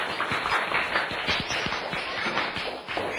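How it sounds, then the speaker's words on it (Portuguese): A classroom of students claps for two chosen candidates, a dense, steady patter of hand claps filling the room with scattered louder individual claps standing out. "Uma salva de palmas para o Anílson e para a Laís."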